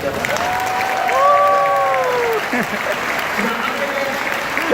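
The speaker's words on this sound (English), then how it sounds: "I'm going to ask you all to show them a whole lot of support by giving them a whole lot of applause." An audience at a show at Chicago's Shedd Aquarium breaks into sustained applause, a broad wash of clapping that swells and then holds steady, with a few high sliding tones and voices heard over the crowd.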